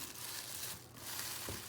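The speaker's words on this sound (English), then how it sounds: "So the plastic bag can come out now" A plastic bag rustles and crinkles close up as it is pulled off clay, a short continuous crackle with one soft thump near the end.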